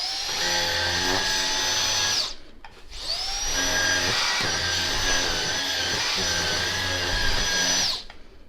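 Mini brush attachment of a vacuum cleaner working over a duvet, a loud steady high-pitched motor whine that stops briefly near the two-second mark and then runs on alone.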